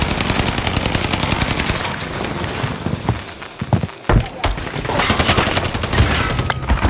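Rapid bursts of automatic video-game gunfire rattle loudly and almost continuously, pausing briefly midway before resuming, with a voice talking faintly underneath.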